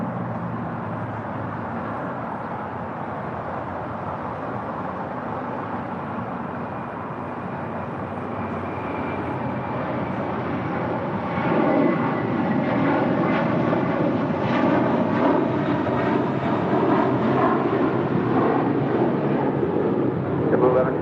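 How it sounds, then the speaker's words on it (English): An old America West Airbus A319 airliner on arrival from Vancouver, its jet engines a broad steady roar that swells louder and rougher as it nears, with talk partly over it. "This flight coming in from Vancouver and this old America West A319."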